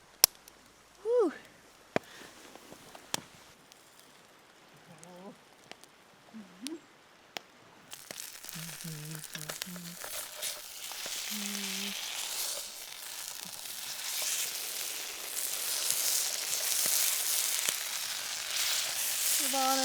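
Food sizzles in a lidded pan at a campsite, a steady frying hiss that builds and grows louder over the second half. Scattered clicks, clanks and short vocal sounds come before it.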